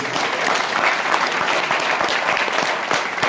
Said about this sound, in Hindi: एक बार जोरदार तालियां उनके लिए बजाने के